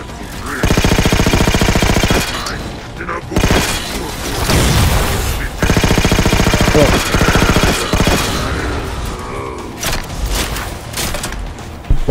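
Halo 4 gunfire comes in long, loud sustained bursts of rapid automatic shots with heavy booms between them, filling the whole stretch with dense, close combat noise.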